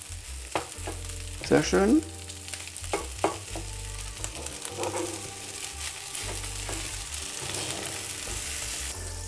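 Nasi goreng stir-fried and tossed on a teppanyaki griddle, with steady sizzling and scraping of a spatula against the hot plate, a few louder clanks, and a brief spoken remark over the cooking.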